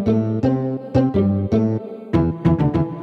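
Deep synthesized bass notes layered with short plucked pizzicato strings on a keyboard, played in uneven bursts of chords, loud and close with no voices.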